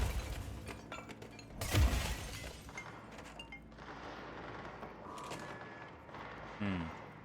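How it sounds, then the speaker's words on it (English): Gunfire in the video game Control, with a sharp burst of shots near the middle among scattered game sounds and a later short rattle, fairly loud over a busy background. "I hear gunfire."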